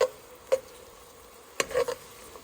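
Cream cheese and butter being stirred together for Alfredo sauce, a few quiet scraping and tapping strokes in a pan, sparse and close with near-silence between.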